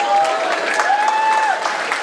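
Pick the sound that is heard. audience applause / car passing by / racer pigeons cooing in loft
audience applause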